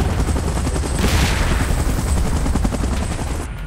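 A helicopter in PUBG's Titan Last Stand mode, a chopper sitting in position for evacuation, gives a loud, steady rotor roar with dense rumbling beats and bursts of gunfire-like noise throughout, easing slightly at the end.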